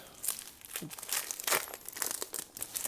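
A foil wrapper on a Vanguard trading card booster pack is crinkled and torn open, giving close, bright crackling that continues without pause for a few seconds.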